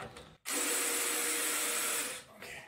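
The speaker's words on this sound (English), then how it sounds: "more left-handed drilling here" A drill drives a screw into the wood of a bicycle frame and wheel rack in a home workshop, one loud continuous whir of about two seconds that starts abruptly and then winds down.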